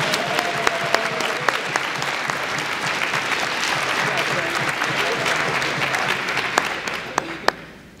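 A school awards audience applauds AP Scholars with Honor at Black River Public School's 2023 high school ceremony, with steady, full clapping throughout that fades at the end and a few sharp louder claps standing out.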